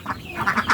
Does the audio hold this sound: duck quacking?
yes